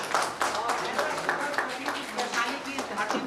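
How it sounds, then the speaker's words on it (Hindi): Audience clapping at an inauguration ceremony in Vaishali, a dense steady burst of many hands filling the space at close range, with a voice talking faintly underneath. "एक बार जोरदार ताली बजती रहनी चाहिए।"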